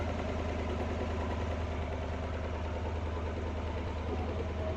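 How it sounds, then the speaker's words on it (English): A 1957 Ford Thunderbird engine idles steadily while warming up after being carbureted. The idle is a low, even rhythmic rumble that stays close and continuous. "Try to get her idled down a little bit. And let it continue warming up"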